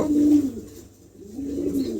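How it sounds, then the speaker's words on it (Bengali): Soft, low cooing from a pair of Roman pigeons, two drawn-out coos separated by a short pause, close and fairly quiet. "খুবই চমৎকার একজোড়া কবুতর"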